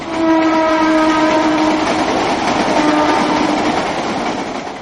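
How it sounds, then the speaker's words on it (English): Local trains on the Western Railway line rumble past homes just feet from the tracks, the horn blaring loudly and close before the wagons roll by with a steady clatter. "local trains go by all day, every few minutes"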